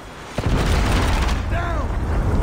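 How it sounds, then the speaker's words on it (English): Predator missile explosion in a Call of Duty match, a sudden loud boom that kicks in sharply and rolls into a sustained, rumbling blast under game effects and a brief tonal whine. "Hostile predator missile inbound."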